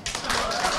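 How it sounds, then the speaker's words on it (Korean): A brief burst of crowd applause, dense and steady, lasting under a second. "박수 소리가 좋은 것 같네요."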